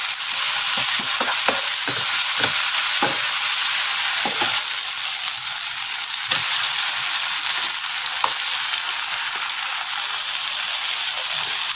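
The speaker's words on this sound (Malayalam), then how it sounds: "ഈ തവി കൊണ്ട് തന്നെ നന്നായിട്ട് ഉടച്ചു കൊടുക്കണം" Garlic-ginger paste is mashed with a ladle in a hot pan for squid masala, producing a continuous loud sizzle broken by repeated scraping and tapping clicks of the ladle against the pan.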